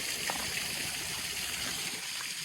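Spring water flows steadily at Yellow Springs, a stream of brownish-orange mineral water. The continuous, fairly quiet rushing and trickling holds even from start to finish, with no voices.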